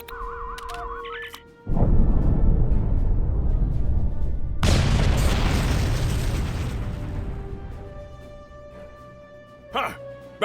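A rock is blasted in a video game: a deep, loud explosion booms close and rumbles, then a second heavy blast follows and fades slowly into a long decaying roar, with game tones before it.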